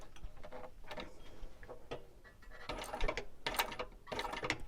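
A sewing machine stitches a seam on a wristlet at a long stitch length, giving soft, quick mechanical ticking in uneven bursts with short pauses between runs, faint and close.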